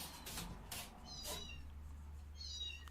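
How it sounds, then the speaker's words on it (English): A kitten meows several times, faint and high, over a steady low hum and a few broadband noise bursts, with no talking. "It sounds like a kitten more than a cat."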